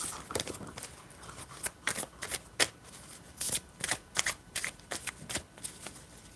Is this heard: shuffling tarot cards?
yes